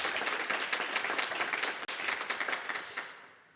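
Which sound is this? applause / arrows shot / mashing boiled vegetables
applause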